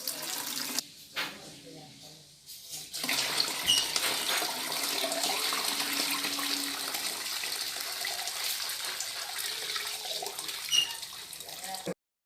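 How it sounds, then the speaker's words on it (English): Zobo hibiscus drink is poured through cheesecloth into a bucket, a continuous close splashing gush of liquid that follows a few brief handling noises and stops abruptly. "I'm going to sieve it using my cheesecloth into a bucket."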